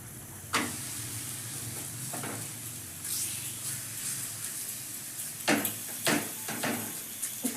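Hot tava with a rolled chapati laid on it: quiet steady sizzling hiss, broken by several soft clacks and scrapes of handling, close and gentle with no talking.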